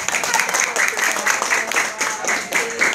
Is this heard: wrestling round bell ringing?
no